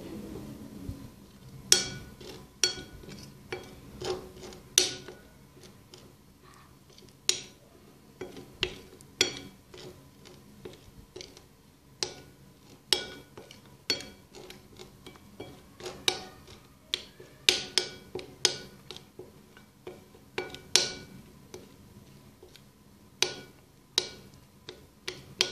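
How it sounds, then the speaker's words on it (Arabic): A spoon taps and scrapes against a small bowl as a homemade face paste with yogurt is stirred, irregular light clinks and ticks coming close and distinct with no talk over them. "نخلط جيدا يعني حتى نتحصل على هذا"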